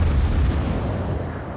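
Cruiser guns firing during a naval battle video game, a short burst of heavy low booms and rumbling close up.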